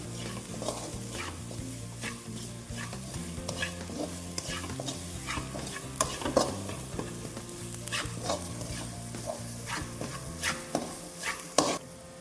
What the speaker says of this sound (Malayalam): ഇതെല്ലാം കൂടെ നന്നായി ഒന്ന് വഴറ്റിയെടുക്കാം